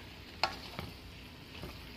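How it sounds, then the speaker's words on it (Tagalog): Pinakbet vegetable stew simmering in a covered pot gives a faint, steady background hiss with a few soft clicks and light stirring taps near the start, quiet and close, with no voices. "let it simmer for 3 to 4 minutes"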